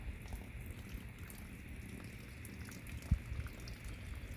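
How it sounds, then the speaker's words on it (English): Water draining from pots of repotted succulents, trickling into a bucket as a steady, faint patter with one brief louder knock near the end. "I actually drain it in the bucket."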